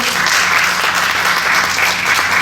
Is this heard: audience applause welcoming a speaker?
yes